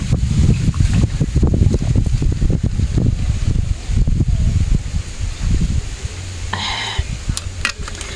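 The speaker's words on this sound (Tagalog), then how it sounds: "Pero ang lakas ng hangin." Strong wind gusting across a microphone outdoors in a hot garden, a steady broadband roar with low rumbling buffets throughout, plus some faint clinking near the end.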